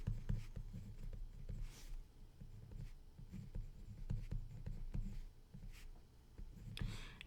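Marker or chalk writes on a board during a college algebra lecture. It is a quiet, scratchy scribbling with short strokes and small taps, heard alone under faint room noise.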